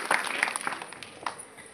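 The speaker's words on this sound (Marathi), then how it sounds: "जोरदार अशा एकदा टाळ्या होऊन" A kirtan audience gives a short burst of scattered clapping, faint and somewhat distant, that fades quickly.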